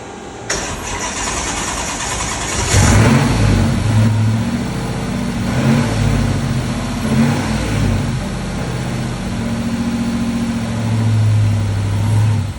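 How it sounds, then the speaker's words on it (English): A Hellcat-engine-swapped S10 truck running a Holley startup tune cranks and fires up loudly, then settles into a heavy, lumpy idle with a few revs rising and falling over about ten seconds, close and alone. "Hopefully we end up starting this truck up."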